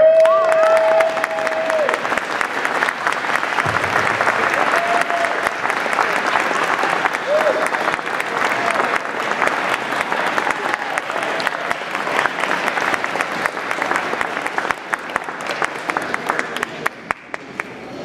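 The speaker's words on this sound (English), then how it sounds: "Will the spouses and family members of Class 21 Golf please rise and be recognized with a well-deserved round of applause?" Sustained applause from an audience at an Airman Leadership School graduation ceremony for Class 21 Golf, a steady dense roar of clapping that holds for the whole stretch, with a brief voice near the start.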